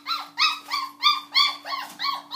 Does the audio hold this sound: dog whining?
yes